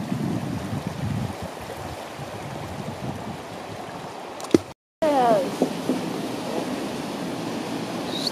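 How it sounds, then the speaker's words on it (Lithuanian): A fast-flowing river seen from a bridge in Glacier National Park gives a steady rushing hiss throughout, broken by a brief dropout, with a short voice and some clatter near the middle. "Čia matosi ten srauni upė."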